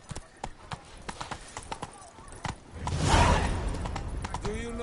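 Hooves of the horse Roach clip-clop in a quick, steady rhythm on the ground in The Witcher 3, followed by a louder rushing swell of motion and a brief whinny-like cry near the end.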